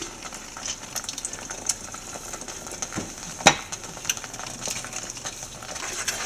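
A thickening sauce for pork ribs bubbles in a pan while being stirred, a soft simmering sizzle with scattered scrapes and one sharp clink of a spoon against the pan partway through.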